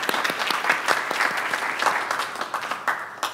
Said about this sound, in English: You can make an applause.